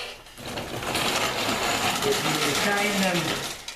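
A pedal-powered bicycle grinder crushes corn into chicken feed with a close, steady mechanical whir and crunching grind that swells in and fades at the end, and a voice is briefly heard.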